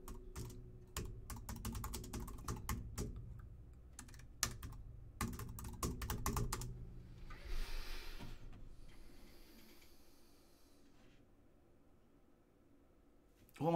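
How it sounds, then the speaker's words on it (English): Rapid clattering keystrokes on a computer keyboard as someone types a search into eBay, in dense bursts for about six seconds, then fading into quieter rustling and room noise. "What am I typing in?"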